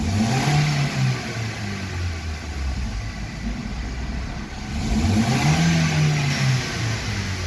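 A Chevrolet Celta car engine with a reported engine noise revs twice from a steady idle, each rev rising and falling in pitch, heard close and alone.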